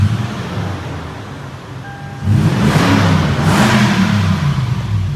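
A Lexus GX470 engine idles, then revs up loudly through a throaty MagnaFlow exhaust, the roar swelling and holding steady.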